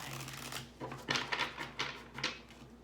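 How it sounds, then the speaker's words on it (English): A tarot card deck is shuffled close by in a quiet room, giving several soft, papery riffles and taps in an uneven rhythm. "I'm going to do one more shuffle here and get started with you right away"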